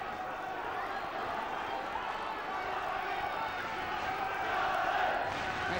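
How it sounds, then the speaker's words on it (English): A boxing crowd roars through a world super featherweight title fight, a dense, steady wash of noise that swells slightly toward the end, with no distinct voices standing out. "Listen to the crowd."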